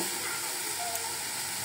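Finely shredded cabbage sizzles steadily in a pan for a cabbage ghonto with fish tail and peas, a soft continuous frying hiss at low level with no talk.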